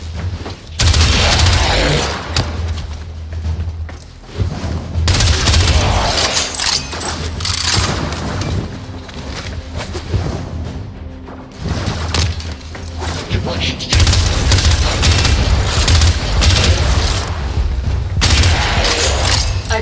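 Rapid bursts of primary weapon gunfire in the video game Warframe, loud and repeated with booming impacts and mechanical clatter, mixed with game sound effects and voice lines throughout.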